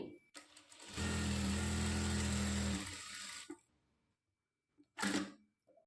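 An electric sewing machine fitted with a special presser foot runs in one steady burst of close, loud stitching for about two seconds, followed by quiet handling clicks and a short second whir.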